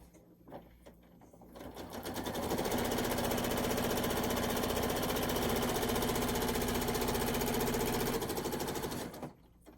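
A sewing machine stitches a quilt-as-you-go row in one sustained run, its fast steady needle chatter and motor hum starting after a few soft handling sounds and stopping abruptly near the end.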